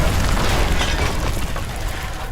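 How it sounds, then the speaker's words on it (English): A terrific explosion on a city street bursts out as a loud, heavy boom with a dense roaring, crackling rumble that stays strong throughout and tapers only slightly at the end. "a terrific explosion occurred"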